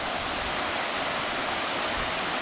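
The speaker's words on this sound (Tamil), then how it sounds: "இதுதான் வந்து விஸ்பயரிங் வாட்டர் ஃபால்ஸு." The Whispering Waterfalls near Sholayar Dam in Valparai, a steady, dense broadband rush of falling water, even and unbroken, with no voices.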